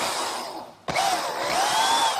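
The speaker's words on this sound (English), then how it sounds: "the drill bit comes out and drills a pilot hole" Power drill boring a pilot screw hole for a hinge on a wooden gardener's workbench, a close, loud motor whine that drops out briefly before surging back and holding steady.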